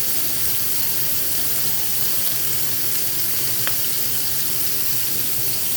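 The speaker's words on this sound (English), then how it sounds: "So I wash my hands for a second." Hands washed under a running kitchen tap, a steady, even hiss of flowing water that continues unbroken throughout, with no talking.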